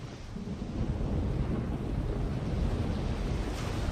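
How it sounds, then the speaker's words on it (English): A chaos storm rolls in within the fantasy video game The Longest Journey, a steady low rumble of thunder with wind and rain noise sustained throughout. "by the mercy of Jal, it's a chaos storm"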